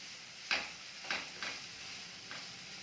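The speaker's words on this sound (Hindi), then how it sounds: "और प्याज को भूनेंगे।" Finely chopped medium onion frying in hot oil over a medium gas flame, a quiet steady sizzle broken by a few soft clicks and stirring taps, close but faint.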